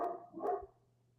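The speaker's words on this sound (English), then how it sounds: "My dog is barking." A dog barking just outside a door indoors, two quick muffled barks run together, moderately loud then trailing off into quiet room tone.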